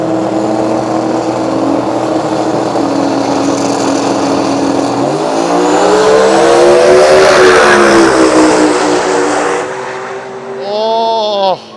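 Two cars, a Ford Cortina and a Holden Torana, launch and roar down the strip side by side in a 275 radial drag race, engines screaming loud and rising through the gears before cutting off, with a brief shout near the end.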